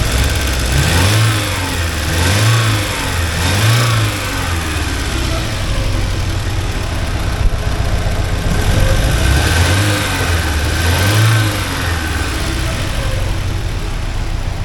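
The engine of a 1979 Porsche 924 idles, then revs repeatedly in strong rising and falling bursts as the car pulls away, loud and close throughout with no talk.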